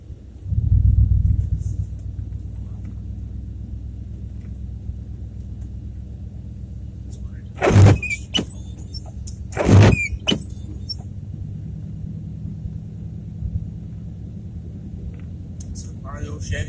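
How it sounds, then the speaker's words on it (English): An old American-made Chevy truck drives on a cold day during a power hammer delivery, its engine giving a steady low rumble throughout, interrupted by two sharp, squealing bursts a couple of seconds apart midway. "So far, the old Chevy pulls good."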